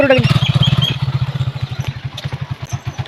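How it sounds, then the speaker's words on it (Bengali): A motorcycle is ridden along a narrow lane, its engine thumping in fast, regular pulses close by. The thumping is loud at first and eases a little as the bike rolls on, with no speech over it. "বন্ধুরা আজকে আমার দিদি বাইক চালাচ্ছে"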